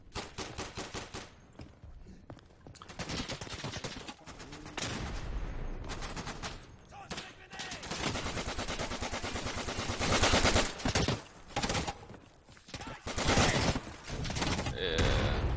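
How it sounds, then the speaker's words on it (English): Bren and Lewis machine gun fire in the video game Day of Infamy, loud repeated bursts of rapid automatic shots with brief pauses between volleys, close and dominant throughout. "I just spam that whole area with like basically a machine gun"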